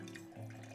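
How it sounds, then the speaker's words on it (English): Water runs into sourdough starter in a short, quiet, continuous trickle, faint and alone for under a second. "First we add the water, we mix it."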